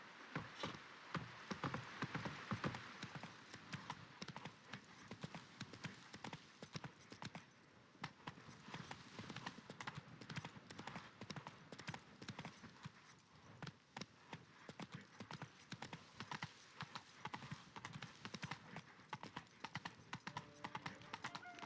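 Roach, a horse in The Witcher 3: Wild Hunt, gallops with a steady, fast rhythm of clip-clopping hooves that runs continuously and fairly loud throughout, with a faint jingle of tack mixed in.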